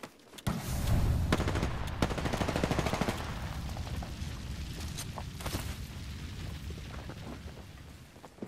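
Grenade blast and gunfire in a video game: a loud burst opens the clip, followed by rapid crackling shots and scattered sharp bangs that continue at a steady, fairly close level without talk.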